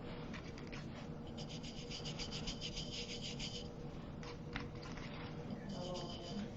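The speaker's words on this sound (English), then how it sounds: "so I'm just going in the circles here. Just rubbing it in." Brush or sponge rubbing metallic finish in circles into a bisque ceramic winter bird piece, a steady close scrubbing texture throughout with faint background noise.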